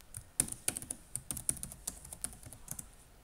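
Computer keyboard typing a short command on an Ubuntu server machine: a quick run of close, crisp key clicks in uneven bursts, with no voice.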